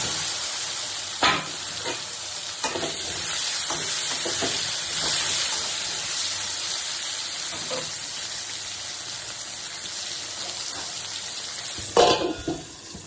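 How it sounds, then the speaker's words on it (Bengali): Pointed gourd (potol) fries in hot mustard oil with a steady, close sizzle and hiss, broken by occasional clatters of stirring and a louder burst near the end, no voices. "এটা গরম হয়ে গেছে, পটলগুলো ভেজে নেব"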